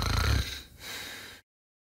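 A person snores while testing a Nitetronic Z6 smart anti-snore pillow: one close, rough snorting inhale, then a softer breathy exhale, followed by sudden silence.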